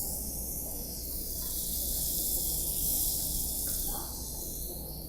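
Butter sizzles in a hot pan while cubed beef is prepared, a steady, close hiss of bright frying noise that holds at an even level throughout.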